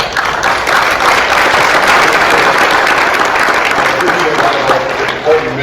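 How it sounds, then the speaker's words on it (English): A conference audience applauds during a vendor panel, a dense, loud, sustained wash of clapping that holds steady for several seconds before easing slightly at the end. "You should be applauded for that."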